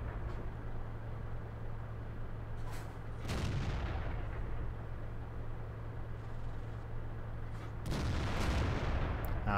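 Tank guns fire in World of Tanks, two heavy booming shots several seconds apart over a steady low engine rumble, the second blast louder and followed by a long rolling decay.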